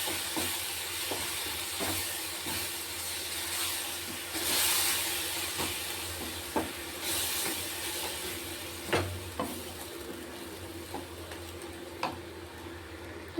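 Fenugreek leaf curry with peanuts and ground green masala frying in a pan, a soft continuous sizzle under irregular spatula taps and scrapes that grow more frequent toward the end, with no talk.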